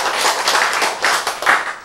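An audience at a lecture claps in a brisk, dense burst, hands patting in uneven waves that sound loud and close.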